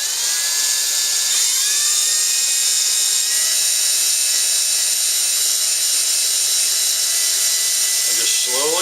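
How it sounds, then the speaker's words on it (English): A cordless drill whines steadily at high pitch while driving a screw, loud and continuous close by, its tone shifting slightly as it spins, with a brief rustle at the end. "and then you can go ahead and use your drill."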